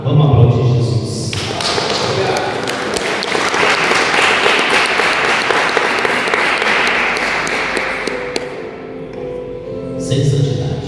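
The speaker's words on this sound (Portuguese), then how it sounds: "Vamos aplaudir Jesus." Sustained loud applause from a church congregation during a Pentecostal sermon, broad dense clapping swelling and holding for several seconds before tapering, with a voice heard briefly at the start and end.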